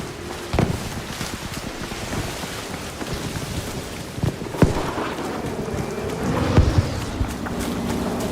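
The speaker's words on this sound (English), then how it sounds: "Storm." Steady rain pours throughout a thunderstorm, with a few sharp thunder cracks and low rumbles breaking over the hiss, fairly close and loud, with no voices.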